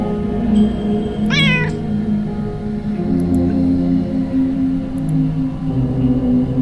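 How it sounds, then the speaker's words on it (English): A single short cat meow from a video game rises and wavers near the start, then only a steady low electronic hum with faint clicks remains. "I heard the kitty."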